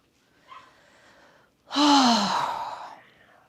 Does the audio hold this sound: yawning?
yes